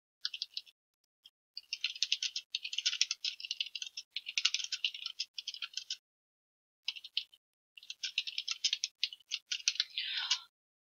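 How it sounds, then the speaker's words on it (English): Typing on a computer keyboard, quiet rapid key clicks in uneven bursts broken by short pauses, close and alone with no talking. "you can type up your sample"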